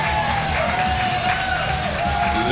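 A wrestling crowd at a live show in Ipswich cheers loudly and steadily, with whoops and scattered clapping rising over a dense roar.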